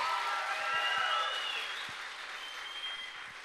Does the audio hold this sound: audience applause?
yes